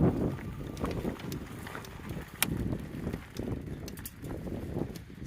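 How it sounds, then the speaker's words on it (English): Wind blows outdoors on a hilly trail beside an electric bike, a continuous rumbling buffet with gusty swells and occasional sharp crackles, close and fairly loud. "It's getting windy."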